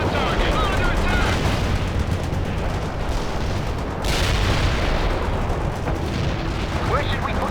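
Constant gunfire and explosions from the real-time strategy game World in Conflict, dense battle noise with rumbling booms and rattling shots, plus intermittent radio-style unit voice lines.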